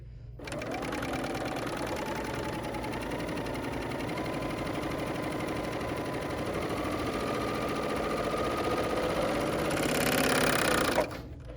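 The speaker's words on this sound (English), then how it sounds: "now what I'm going to do is sew my pink pieces together and then my blue pieces together" A sewing machine runs steadily at a constant fast whir for several seconds, close and loud, then stops abruptly.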